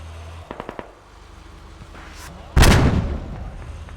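Gunfire in a tactical shooter match: a quick burst of three sharp pistol-like shots early on, then a louder, longer blast of shooting that fades out, with no talking.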